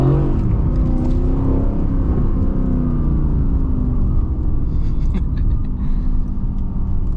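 Mercedes-AMG C63S engine held at high revs in race mode, a loud, steady close-up roar and whir that holds throughout with no shift and no voices.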